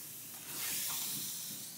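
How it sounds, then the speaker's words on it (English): A steam iron presses a double-faced wool coat seam through a damp cloth, giving a steady close hiss that swells briefly in the middle. "and steam it down"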